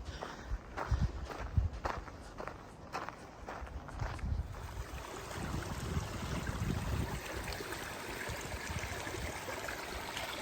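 Footsteps crunch at a steady walking pace along a power line trail on the Ouachita Trail, close and distinct for the first few seconds before fading under a steady outdoor wash of wind or water.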